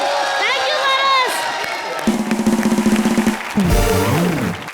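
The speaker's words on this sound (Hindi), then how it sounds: "जोरदार तालियां पारस के लिए।" A studio audience at a live comedy show breaks into cheering and whoops, then rhythmic clapping, followed by a loud musical sting and more crowd noise, with voices shouting over it.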